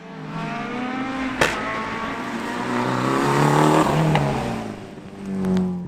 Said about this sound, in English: the big 4-wheel drive Evo of Kevin McCarthy